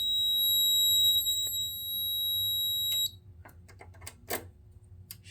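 An FCI 7100 fire alarm system under test sounds a steady high electronic tone with harmonics for about three seconds, then stops and leaves only scattered clicks and faint handling noises.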